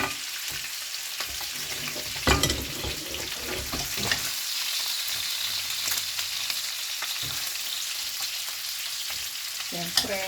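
Pork sticks fry in a hot pan, giving a loud, continuous close sizzle and crackle with a few scraping stirs and clacks of a utensil. No one speaks.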